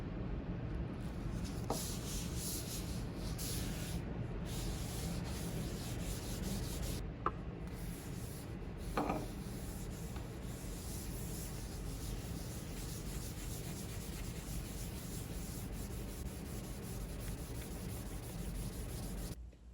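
A cloth rubs Crimson Oil finish onto a maple Telecaster guitar body in a basement, making a steady, continuous soft swishing scrub that runs throughout with no talking.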